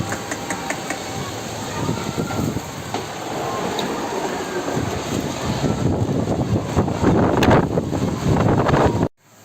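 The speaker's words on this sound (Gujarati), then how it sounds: "બહુ ખતરનાક વાતાવરણ વાવાઝોડા જેવું થઈ" Strong, stormy wind roars and buffets the microphone steadily for about nine seconds, rising in force toward the end before cutting off abruptly, with no voices.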